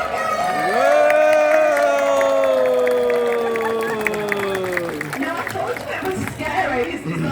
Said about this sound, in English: you guys have got to give him a really, really big cheer